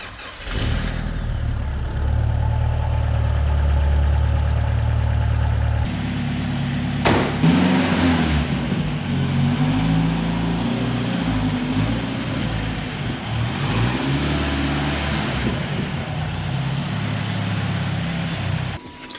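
A 1974 BMW 2002 with a turbocharged M10 engine runs loud and close for about nineteen seconds, idling steadily before picking up into a rougher, revving drone, with no talk over it.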